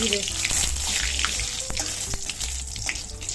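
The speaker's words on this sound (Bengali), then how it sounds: "ফোড়নে দিয়ে দিলাম তেজপাতা শুকনো লঙ্কা আর" Bay leaves and dried red chillies are dropped into hot oil for tempering, giving a steady crackling sizzle that runs throughout with a few sharp pops.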